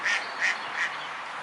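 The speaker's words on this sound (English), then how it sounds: "ducks are laughing" Ducks give three quick, clear quacks close by, evenly spaced and moderately loud, followed by quiet.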